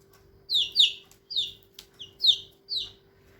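A baby chick cheeps repeatedly, about six high, sharp peeps in an uneven rhythm, fairly close, over a faint low hum.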